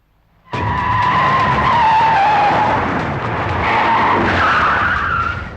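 Cars arrive in a movie climax scene and skid to a stop, a sudden loud screech of tyres that starts abruptly and holds for several seconds with shifting squealing tones, no voices over it.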